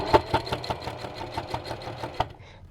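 A Singer sewing machine stitches fabric for a bowl cozy in a rapid, even run of mechanical clicks and thumps, close and clear with no talking, then stops abruptly near the end.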